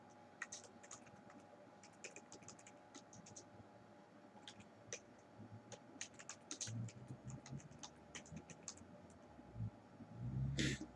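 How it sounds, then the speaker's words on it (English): Steady typing on a computer keyboard while entering an update summary for the space game Star Sonata 2: rapid, irregular key clicks in short bursts, fairly quiet and close, with no talking. "I'm going to type in what we did."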